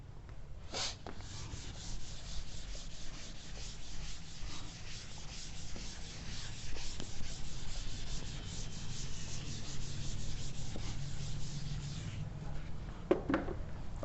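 Steady rubbing of a duster wiping writing off a classroom board, a continuous soft scratchy swishing for the whole stretch, faint and close.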